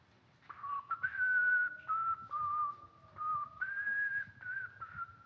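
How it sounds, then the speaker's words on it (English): A person whistles a song melody alone, a clear, steady tune of held and gliding notes in phrases with short breaths between, fairly close and quiet. "The melody of a song is the thing that you whistle."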